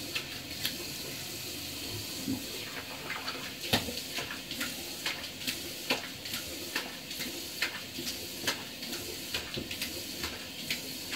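Tap water runs steadily while someone rinses off after shaving, a soft constant wash dotted with small splashes and clicks, fairly quiet and with no voices.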